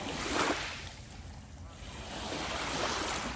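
Water waves wash in with a soft, continuous rushing, swelling near the start and again near the end, faint and mixed with wind noise on the microphone.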